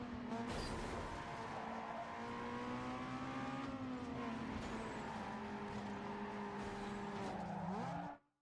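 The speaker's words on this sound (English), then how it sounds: "Car came by with exhaust" A car with a loud exhaust drives past close by, its engine a steady throaty drone that shifts in pitch as it goes by and then cuts off sharply.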